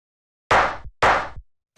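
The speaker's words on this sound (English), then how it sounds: "we just took that clap and then this tom." Two sharp, punchy techno percussive hits about half a second apart, each with a short decaying tail, then silence; a drum-machine clap and tom played in turn.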